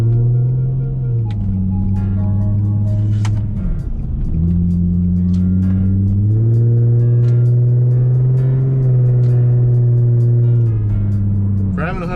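Engine of a 2005 Infiniti G35 sedan with about 180,000 miles, heard from inside the cabin as a steady drone whose pitch climbs and drops through gear changes, loud and continuous with faint background chirps.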